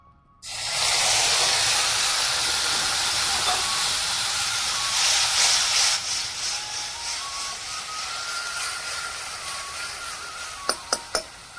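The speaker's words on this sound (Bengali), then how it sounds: "আর কড়াই আমি তেল দেবো না, তেল আছে। পেস্ট করা মশলাটা দিয়ে দেবো।" Spice paste dropped into a hot kadai of oil with fried potatoes bursts into a loud hiss that slowly fades to a softer sizzle, ending with a few sharp taps of a utensil against the pan.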